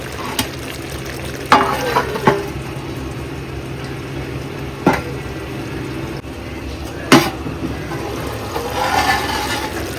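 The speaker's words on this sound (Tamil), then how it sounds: "சிக்கன் நல்லா வெந்துட்டுருக்கு" Chicken pieces for Madurai wedding-style pepper chicken fry cooking in a pan, a steady bubbling sizzle with a few sharp knocks and clatters of a spoon, fairly loud and close.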